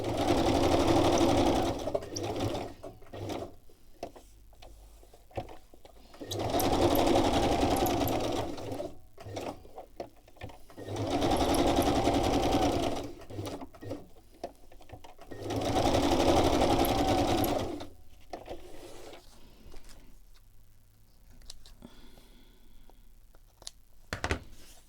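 Domestic sewing machine stitching around a fabric square in four steady bursts of rapid whirring, each a few seconds long, separated by quieter pauses with small handling noises; close and clear.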